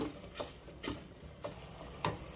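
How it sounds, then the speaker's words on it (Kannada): Tomatoes with turmeric fry softly in a pan under a faint, steady sizzle, and four evenly spaced scrapes or taps of a spatula stand out. No one speaks. "ಚೆನ್ನಾಗಿ ಹಸಿ ವಾಸನೆ ಹೋಗೋ ತನಕ ಟೊಮೆಟೊ ಫ್ರೈ ಮಾಡ್ಕೊಳ್ಳೋಣ"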